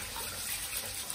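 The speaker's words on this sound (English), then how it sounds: "I will wash the rice now." Running water splashing steadily as rice is rinsed for Nigerian jollof rice, a brief continuous wash of sound up close.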